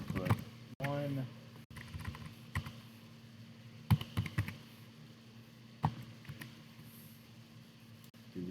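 Quiet computer keyboard typing, scattered soft key taps and a few sharper clacks spread across the stretch, with a brief bit of speech near the start.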